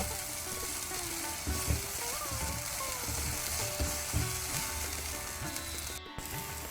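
Silver perch fish with raw mango fries in hot oil, a dense continuous sizzle and crackle close up, with occasional stirring scrapes and a brief sharp knock near the end.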